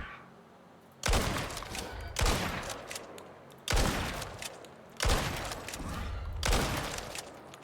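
Shotgun blasts fired at Vespers in the survival game Icarus: four loud, heavy booms spaced over a second apart, each with a long rumbling tail, with no talking over them.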